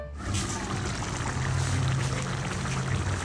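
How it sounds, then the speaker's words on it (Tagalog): Water pours steadily and close into a pot of marinated pork set to boil, a continuous splashing gush that stays even throughout. "magdadagdag ako ng tubig dahil papakuluan ko pa"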